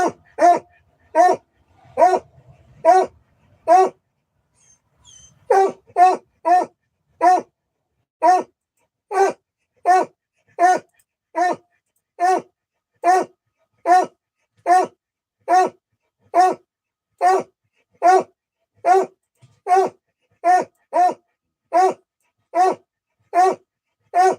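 Patches the dog barks loudly and close in a long, steady series of sharp, evenly spaced barks, with only one brief pause near the start.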